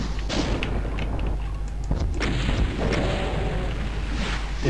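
Gunfire and explosive blasts from the video game Doom, played in GZDoom on the Sigil episode: a series of sharp, booming bursts layered over a low game rumble, loud and close with no talking.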